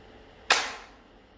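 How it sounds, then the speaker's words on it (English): A flintlock musket fires a single sharp report, close and loud, with a sudden crack that decays over about half a second into a quiet background. "The charge is set off by the flintstone hitting the pan and creating a spark, which ignites the powder in the pan and in turn ignites the powder in the barrel"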